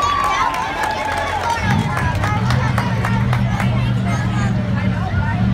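At a county fair monster truck show, a loud crowd roars and cheers continuously, with a deep engine rumble joining partway and announcer-style voices mixed in.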